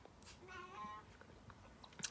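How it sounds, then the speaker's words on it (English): Housecat giving a single short meow in a quiet room, faint and close, followed by soft small noises. "My cat is gonna come say hi."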